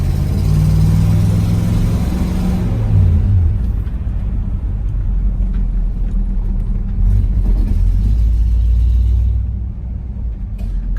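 A 1961 Pontiac Catalina Safari station wagon with a 389 cubic inch Tri Power V8 drives along, its engine a loud, steady low rumble with road noise that eases toward the end.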